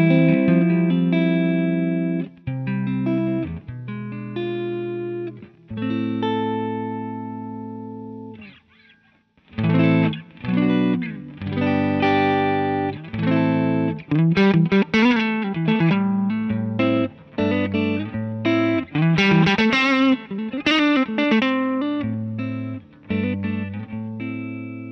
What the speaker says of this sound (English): So this is the Marshall clean sound, definitely got a bit more of that mid push